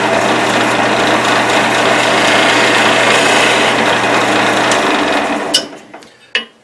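A large skew chisel cutting wood on a lathe makes a loud, steady whirring scrape that runs for several seconds, then dies away, followed by a couple of sharp knocks in the quiet.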